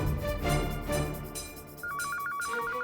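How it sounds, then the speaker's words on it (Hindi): A telephone rings in a household drama scene, a warbling electronic ringtone trilling in a rapid repeating pattern that emerges after a busy backdrop of music and noise. "गोपी बहू, तमे फोन उपाड़ो।"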